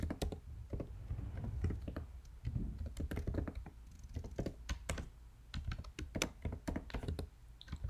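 Steady computer keyboard typing as Java code is entered, a dense run of soft, close key taps with brief pauses, fairly quiet and without any talking.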